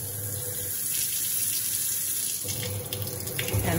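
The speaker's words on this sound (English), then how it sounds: "Our homes feature deep sinks with changeable nozzle" Water runs steadily from a deep kitchen sink faucet with a changeable nozzle in an apartment kitchen, a continuous close hiss that shifts slightly in tone near the end as the flow changes.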